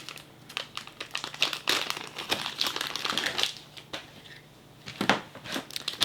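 Plastic bags holding craft wire crinkle and rustle up close in irregular bursts of crisp, papery crackles, with no talking.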